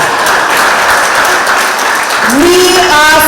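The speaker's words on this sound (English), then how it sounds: "Round of applause." Loud, steady applause from the audience at a PNM San Fernando East constituency annual conference of delegates, a dense wash of clapping that carries on throughout, with a voice starting to speak over it near the end.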